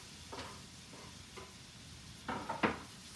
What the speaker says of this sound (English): So you probably hear that sizzle